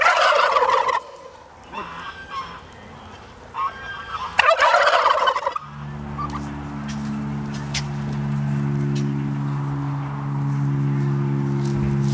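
Kelly Bronze turkeys gobble together on a farm in Höfles, a loud overlapping chorus of gobbles in bursts, then a steady hum of farm machinery with scattered faint calls over it.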